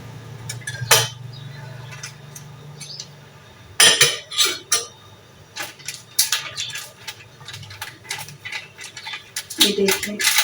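A spoon mixes custard in a pot, giving repeated clinks and scrapes against the metal in uneven bursts, with a low steady hum under the first few seconds.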